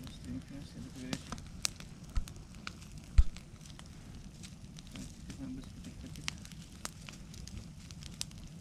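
A campfire in the taiga, built for making tea, gives off a steady scatter of soft snaps and pops over a low rumble. It is fairly faint, and quiet voices can be heard nearby.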